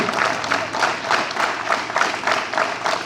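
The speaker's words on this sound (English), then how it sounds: "Clap together." Students at a school morning assembly clap together in a steady unison rhythm, about three claps a second, a loud group sound with no talking.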